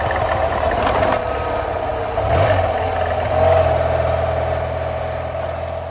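BMW R 90 S boxer motorcycle riding a narrow gravel canyon track, steady mid-pitched engine drone at low revs with slight swells in throttle, close and continuous, no voices.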